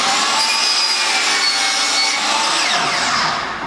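Power miter saw slicing through crown molding at a 45-degree outside miter, a loud continuous whining cut lasting several seconds and tapering off at the end, with no talking.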